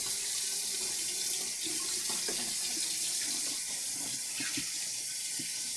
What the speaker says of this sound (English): So I'm going to turn the faucet on